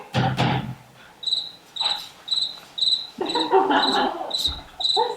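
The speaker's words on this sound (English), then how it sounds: "I've got the birds, the beetles, the crickets. I love the crickets." Crickets chirp in short, regular high-pitched pulses, faint and steady, punctuated by a few louder soft thumps and rustles nearby.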